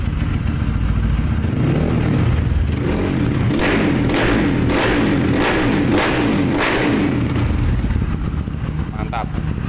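A KLX or CRF dirt motorcycle engine runs loud and close, with a rough, pulsing idle and a series of thumping bursts from blips of the throttle. Someone talks over the engine.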